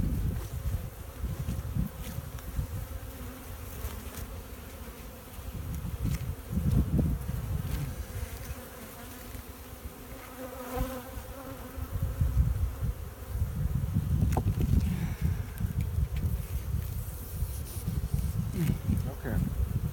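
Honeybees buzz steadily around a pair of beehives, a dense close-up drone that swells and eases in loudness over twenty seconds, with no talking.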